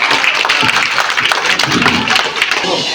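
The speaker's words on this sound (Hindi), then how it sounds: "तालियां बजाओ बच्चों" Schoolchildren at an Urdu middle-school function in Dhamangaon clap together in a loud, uneven patter of many hands, with voices mixed in underneath.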